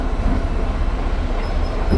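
A heritage railway train at Shepherdswell on the East Kent Railway, a Gatwick set hauled by Class 73 locomotive 73130, rumbles steadily close by with a dense, continuous rolling roar and a faint squeal near the end.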